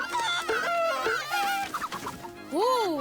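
A cartoon hen clucks repeatedly in quick, agitated bursts, close by and loud, ending with a rising squawk.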